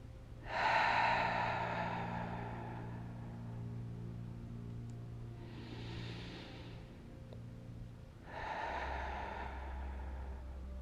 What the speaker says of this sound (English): Two more nourishing breaths here.